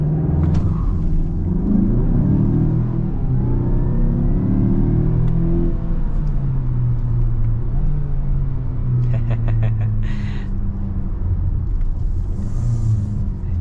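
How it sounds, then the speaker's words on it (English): A 2022 Mazda CX-5 SUV with a turbo engine is held on the brake to spool the turbo, then accelerates from a dead stop. A loud, steady low engine rumble rises in pitch throughout, with no talking. "I'm gonna brake boost this CX-5 and see how it does from a dead stop"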